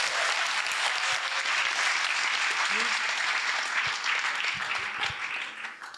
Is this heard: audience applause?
yes